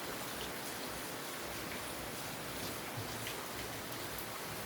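Steady rain falls continuously, a dense even hiss of drops on surfaces with no voices, holding the same level throughout.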